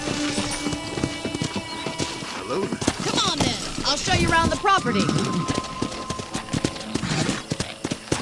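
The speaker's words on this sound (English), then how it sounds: "let's see if you can still ride a horse." Rhythmic clip-clop of horse hooves close by in the video game Red Dead Redemption, with a horse whinnying and someone speaking over the steady gait.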